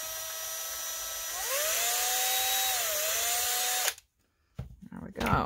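A tiny drill bit bores a hole in a glitter-coated German glass ornament, a steady high whine that rises in pitch partway through, then stops abruptly, followed by faint handling noise.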